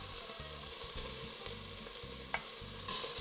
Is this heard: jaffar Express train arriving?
no